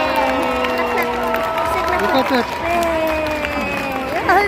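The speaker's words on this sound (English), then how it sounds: "let's give Pablo a round of applause" An audience at a sea lion show in West Edmonton Mall, Edmonton, claps and cheers in a steady crowd roar, with voices talking and calling out over it and a few brief tonal squeals near the end.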